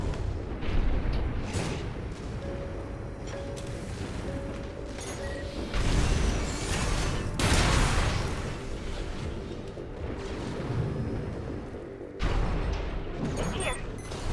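Armored Core VI mech combat rumbles with gunfire and heavy booming impacts in repeated bursts over a continuous mechanical din, with a voice speaking at times.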